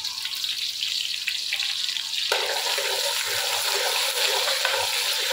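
Medium onion frying in hot ghee, a steady hiss that jumps louder partway through as it is added to the pan, continuing as a dense sizzle without speech.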